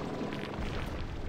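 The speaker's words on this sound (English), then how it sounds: "And here we go with the explosions." Slimes explode in Slime Rancher 2, a dense, continuous rumbling burst of blasts, loud and close, with no voices over it.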